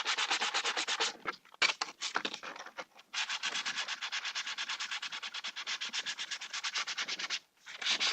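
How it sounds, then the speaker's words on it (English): Sandpaper rubbed back and forth over the edges of PVC Sintra plastic for a cosplay backplate, a steady close rasping in long rhythmic strokes with a few short pauses. "go over your edges with your sandpaper as well. Dull those edges down."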